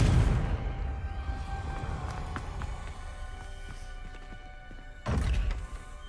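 A Confringo fire spell cast in Hogwarts Legacy lands as a heavy, booming thud, then fades into a rumbling tail, and a second loud impact bursts in near the end.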